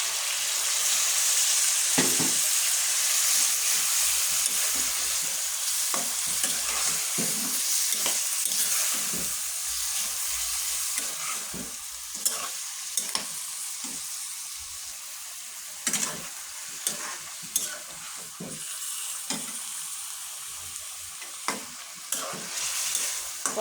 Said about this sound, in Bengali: আমি সামান্য পরিমাণ কষানোর জন্য একটু ঝোল দিয়ে দিলাম